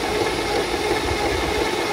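A Mercedes W140 600 SEL engine idles up close, a dense, steady mechanical rumble with faint knocking and vibration, unchanging and without throttle, no voices.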